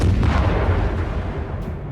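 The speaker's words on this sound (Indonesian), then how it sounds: "ranjau pun dibuat meledak" Landmines go off in a war-film scene, a heavy, rumbling wall of deep blasts that rolls continuously, loud and dense, fading slightly toward the end with no talking.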